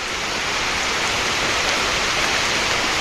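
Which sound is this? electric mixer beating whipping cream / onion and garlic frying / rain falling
rain falling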